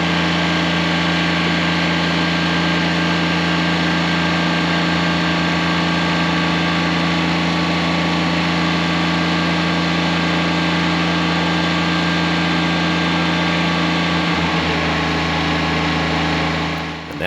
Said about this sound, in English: that's Justin using his cant hook to help the Kubota lift the log